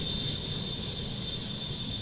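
A McDonnell Douglas MD-80 jet engine in a flight simulator runs with a loud, steady roar and a thin high whine held at one pitch, with no change throughout.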